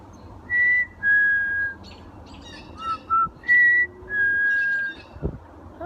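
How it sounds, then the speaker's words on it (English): Outdoor bird calls attributed to a blue jay: a series of clear whistled notes, some long and slurred, some short and paired, moderately loud over steady low background noise, with no talking. "Hear that? That's a blue jay."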